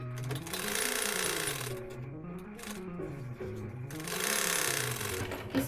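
An electric sewing machine stitches the shoulder seams of a size 48 blouse, whirring in two sustained, even runs with a brief slowdown between, while a voice talks quietly underneath.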